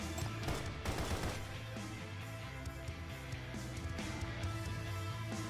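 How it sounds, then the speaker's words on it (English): Gunshots and rapid bursts of fire in the video game Path to Nowhere, faint and continuous, with a steady low musical drone underneath. "Gunshot sound."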